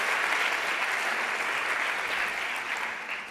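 An audience at a tourism startup contest and social media awards applauds the nominees, a dense, steady wash of clapping from many hands that fades slightly toward the end, with no voices over it.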